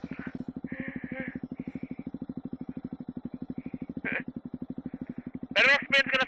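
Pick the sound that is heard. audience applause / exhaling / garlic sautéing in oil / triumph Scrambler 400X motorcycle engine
triumph Scrambler 400X motorcycle engine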